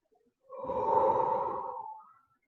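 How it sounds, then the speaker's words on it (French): A single slow, deep breath drawn during a yoga practice, a soft airy rush lasting under two seconds, close and quiet with silence around it. "Deux dernières respirations."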